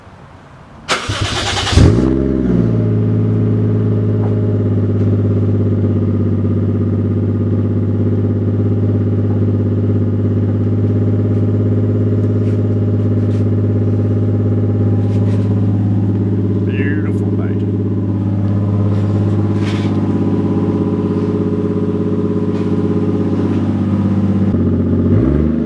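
A Toyota JZX100 Chaser drift car fires up after a brief crank, then settles into a loud, steady idle with a few revs, close by, with people talking faintly over the running engine.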